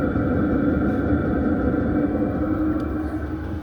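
A diesel heater's exhaust running through its muffler beside a rooftop tent gives a steady, close, low rumbling drone that holds unchanged throughout, with no voices.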